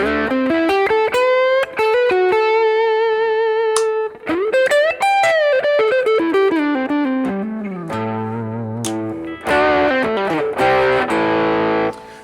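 Electric guitar played through a vintage Ibanez TS9 Tube Screamer with gain at full: loud, sustained overdriven notes and chords ringing out in phrases, with brief pauses between runs.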